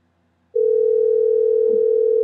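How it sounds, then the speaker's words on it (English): On a Google phone call, a steady electronic tone starts abruptly after a brief silence and holds clear and unbroken, like a line ringing or dialing. "And you can hear the dialing, so I am dialing."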